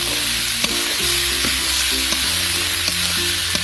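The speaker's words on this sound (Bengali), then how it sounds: "আলুটাকে কিছুক্ষণের জন্য মশলার সাথে এভাবে কষিয়ে নিতে হবে।" Diced potato stir-fried in a spice masala, a steady bright sizzle with repeated scraping strokes of a spatula against the pan, close and continuous.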